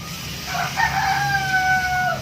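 A pet rooster crows nearby in a home kitchen, one drawn-out cock-a-doodle-doo rising and holding, loud and clear over faint background noise.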